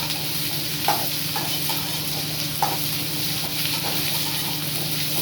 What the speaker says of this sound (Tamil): போட்டு வதக்கலாம்.